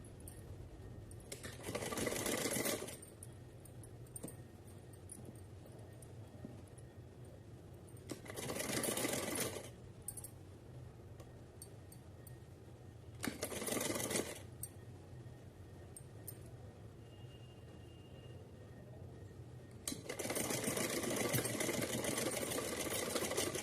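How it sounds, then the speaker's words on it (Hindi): Sewing machine running straight stitches on cotton cloth for a small deity outfit, in four distinct bursts of steady mechanical whirring separated by quieter pauses, close and fairly loud. "उल्टी साइड रखेंगे और एकदम सीधा सिलाई लगाएंगे इसके ऊपर"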